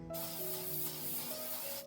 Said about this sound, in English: So next I'm gonna go in with some hairspray.